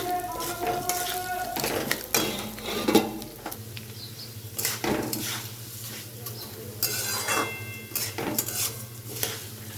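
Rice fries in a pan for paneer pulao: a spoon scrapes and clatters against the pan while a soft sizzle runs underneath, with intermittent stirring strokes.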